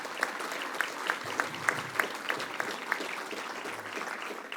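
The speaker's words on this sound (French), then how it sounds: "On peut aussi l'applaudir." Applause at an ALEFPA New Year's greetings speech, a moderate crowd clapping steadily with a few louder, distinct claps standing out near the front, fairly soft overall and sustained.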